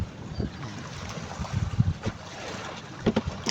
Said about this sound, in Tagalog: yung isang bangka namin guys yun.